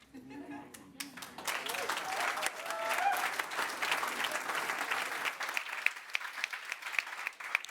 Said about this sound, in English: Round of applause for our second debaters on both sides